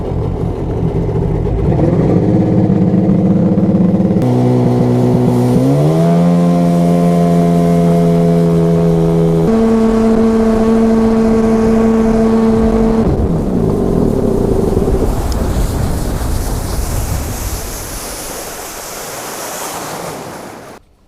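A Sea-Doo XPL 951 two-stroke engine with Mikuni Super BN 46i carbs revs up in steps to high steady RPM, holds, then drops off amid water and wind noise before fading near the end.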